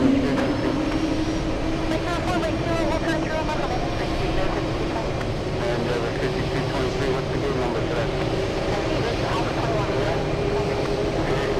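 An airliner on the Los Angeles flight at JFK runs its engines with a continuous droning roar and a low steady hum, while a voice talks intermittently over it.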